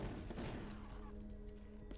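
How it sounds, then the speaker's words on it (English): Rapid gunfire from a heavy weapon in the video game Call of Duty Black Ops 3 rattles loudly, then trails off into fainter shots and a low hum. "Time to riddle them with bullets."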